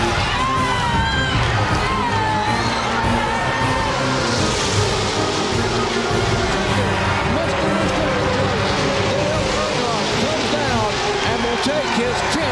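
Crowd of 170,000 at a Talladega NASCAR race with Dale Earnhardt taking the lead, a loud, sustained wall of cheering and whooping, with excited voices mixed in.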